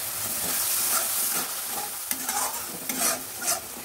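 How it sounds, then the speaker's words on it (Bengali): Tilapia being stirred with spice powders, turmeric and a splash of water in a hot pan, a close sizzling hiss broken by several scraping spatula strokes, no voices. "সবগুলো দিয়ে এবার সুন্দর করে মিশিয়ে নেড়ে দেব"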